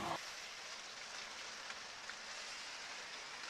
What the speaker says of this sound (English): Hopefully the rain will pass.